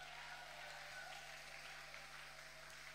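A church congregation applauds together in a sustained, even wash of clapping that stays steady throughout, heard from within the hall at moderate level.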